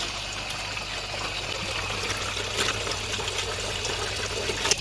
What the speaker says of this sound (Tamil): இப்போ நம்ம தண்ணி வந்து ஆட் பண்ணிகிட்ருக்கோம்